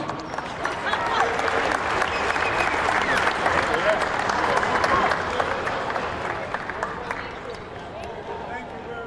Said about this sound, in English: please honor Gail, Carol, and Lisa with a round of applause